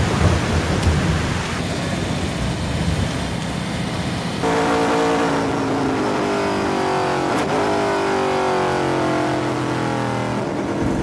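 Steady rain at the Mid-Ohio race track during a TransAm Series weekend, a dense continuous hiss with a car engine droning and shifting pitch underneath.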